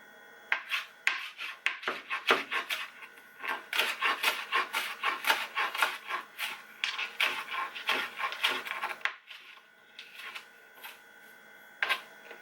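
A knife chopping parsley and other tabouli ingredients on a wooden board, a steady run of crisp close taps and scraping cuts that thins into sparse strokes near the end, with no talking.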